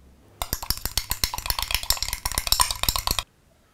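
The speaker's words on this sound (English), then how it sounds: "Take a knife and mix them up real good." A knife stirs peanut butter and jelly together in a dish, giving a quick run of sharp metallic clinks and scrapes in an irregular rhythm, close and clear, stopping abruptly.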